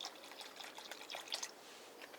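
Vinegar trickling and dribbling into a pot of milk heated to almost 200 degrees for farmer's cheese, a faint, steady watery pour lasting about two seconds with no talk.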